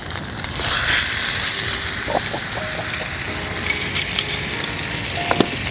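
Butter-basted steak searing in a pan at 450–500 degrees gives a steady, close, loud sizzle with a few sharp pops and clicks near the end.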